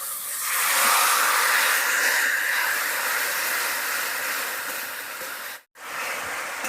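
Water poured into ground cumin, coriander and turmeric frying in a pan, giving a loud, steady steam hiss that holds for several seconds and then cuts out abruptly before resuming.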